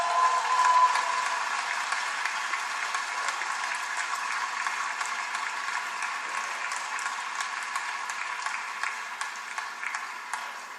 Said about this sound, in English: please do not hesitate to applaud as I read these names